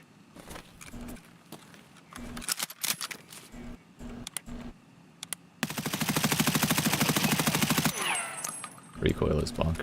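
Heavy-recoil gunfire in a night-vision shooter game: scattered sharp shots early, then a dense sustained burst of rapid automatic fire for about two seconds, followed by more close loud shots.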